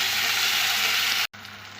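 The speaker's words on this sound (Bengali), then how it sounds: "এখন দিচ্ছি এই যে আদা রসুন বাটা দিয়ে একটু ভালো করে নেড়ে দেবো" Ginger garlic paste frying with tomato in oil, giving a dense hissing sizzle that cuts off abruptly, then resumes more quietly.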